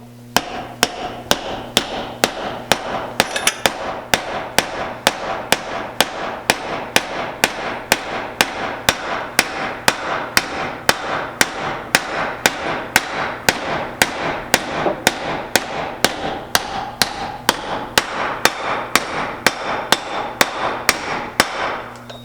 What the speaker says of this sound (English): And then start hammering away.